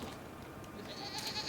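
A goat bleats in the LEGO Batman video game, a faint, short, wavering cry near the end over a quiet game background.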